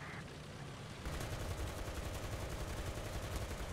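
A .30 cal machine gun fires in the video game Calliope, a faint hiss that gives way to a steady, rapid stream of distant automatic fire, rattling continuously to the end.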